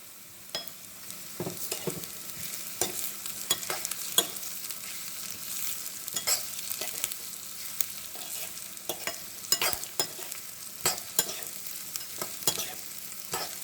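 Mutton chops sautéing in oil, a continuous close sizzle punctuated by frequent sharp spatula scrapes and clicks in an uneven stirring rhythm, with no one speaking.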